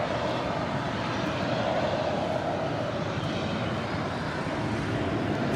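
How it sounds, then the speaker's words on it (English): An MD-11 airliner, 27 years old, landing at LAX, producing a steady roaring jet engine rumble, loud and continuous throughout, without any speech. "It's a 27-year-old MD-11 originally delivered in November of 1995."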